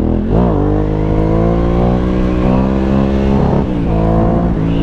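A Ducati Hypermotard 1100 Evo motorcycle engine revs loudly and continuously close by, its pitch rising and falling as the throttle opens and eases.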